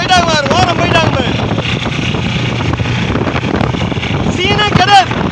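Racing boat engine at a boat race, a loud continuous motor roar with wind buffeting throughout, heard under excited shouting from a crowd.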